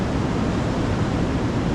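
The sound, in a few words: strong waves on the shore in Zambales, Philippines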